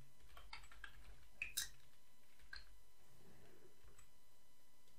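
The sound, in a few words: typing code on a computer keyboard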